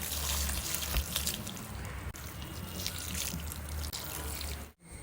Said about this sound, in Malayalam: ഇനി വെള്ളം നനച്ചു കൊടുക്കാം